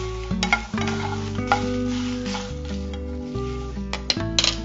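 Dried red chillies are dry-roasted in a pan for sambar powder. A spoon scrapes and clinks against the metal as they are stirred, with faint crackling and soft background music.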